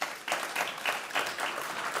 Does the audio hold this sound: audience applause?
yes